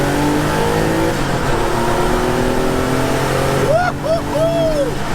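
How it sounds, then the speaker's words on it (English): An old-school Porsche 911 Turbo race car with a boxer engine drones loudly and steadily, its harmonics holding level, while a voice rises briefly over it near the end. "It's got such a unique sound too. Yeah, it's again, being a boxer engine too"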